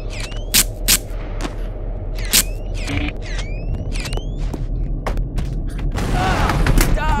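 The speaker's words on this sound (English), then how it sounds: "Man, explosion is so fun." Explosions in the BoneLab VR video game, a handful of sharp booming blasts in quick succession over a steady background rumble, fairly loud and close.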